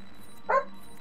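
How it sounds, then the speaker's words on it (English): A single short dog bark in the video game Mass Effect 2, one brief, clear yap over a low steady hum, with no talking. "There's the bark."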